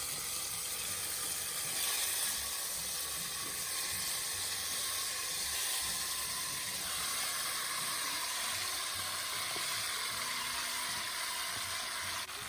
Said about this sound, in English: Once that's melted, I'll add all of these leftover ranch style beans.